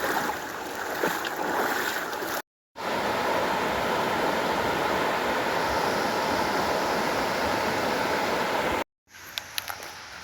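Water rushes at a stream crossing on a forest trail: a loud, steady broadband wash of flowing water, broken by two short silent gaps and a few faint clicks near the end.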